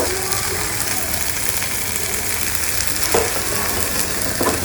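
Turmeric, cumin powder and coriander powder fry in oil in a pan, giving a dense, steady sizzle up close with a couple of faint stirring scrapes.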